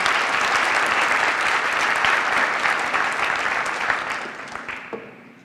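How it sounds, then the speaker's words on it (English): A large audience claps loudly and steadily, then the applause gradually fades out over the last couple of seconds. "let's give him a big round of applause"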